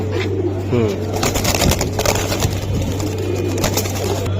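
Pigeons coo softly at a backyard pigeon sale, including an old-breed boot-beaked hen, with repeated low calls under a steady low hum and faint background voices.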